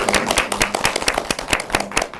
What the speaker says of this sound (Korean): 우리 긴 시간 함께 해주신 서로를 위해서 한번 박수로